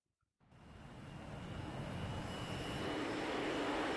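A jet aircraft swells in from near silence and its roar builds steadily, as enemy planes close in during a DCS combat flight simulation. The noise is a broad, rushing engine sound with no voices over it.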